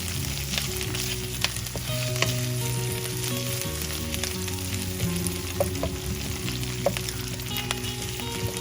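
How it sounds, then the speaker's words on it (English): Onion fries with ginger and garlic in a pan, giving a steady, close crackling sizzle with occasional light ticks, and a low hum running underneath, with no talking. "during this process, the onion is also cooking"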